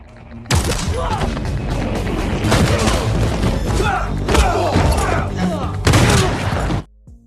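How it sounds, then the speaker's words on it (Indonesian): Dense, loud gunfire and heavy thuds from a sniper rifle fired at close range in an action film fight, blasts overlapping almost continuously under a music score, with a voice briefly mixed in. "dirinya sedang menggunakan senapan sniper dalam jarak dekat"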